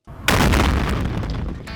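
A 2.2-pound charge of C4 detonates in a single loud, deep boom that erupts suddenly and rolls on as a sustained, heavy rumble for over a second, with no talking.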